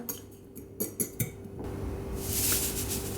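A spoon stirring couscous with pieces of butter and hot water in a bowl, giving a few sharp clinks followed by a softer wet swirling sound.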